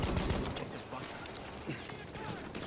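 Rapid crackling bursts of gunfire from a Battlefield 1 battle fill the whole stretch at steady loudness, layered with dense clattering combat noise and no clear pauses.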